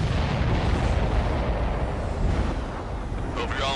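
Explosions in the combat flight game Ace Combat 7, a continuous dense roar of rumbling blasts and booms filling the whole moment, loud and sustained with no clear gaps.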